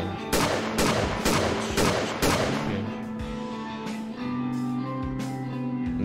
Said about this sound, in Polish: Dobra, 5 strzałów w ciało,